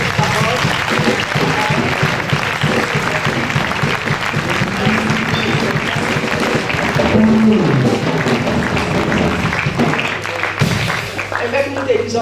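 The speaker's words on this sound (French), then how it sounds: "Acclamer le Seigneur pour cette parole." A church congregation claps to acclaim the Lord, sustained loud applause filling the room for several seconds, with a voice speaking over it near the end.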